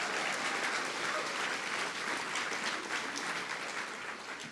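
A large crowd at a Trump rally applauds steadily, a dense, even roar of clapping that stays strong throughout and eases only slightly toward the end.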